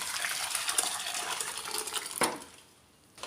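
Cooked dal and vegetable pieces for a Kerala-style sadya sambar tipped into a metal vessel, giving wet splashing and pouring sounds with light clinks, one sharper knock, then a fading tail and a final soft clatter.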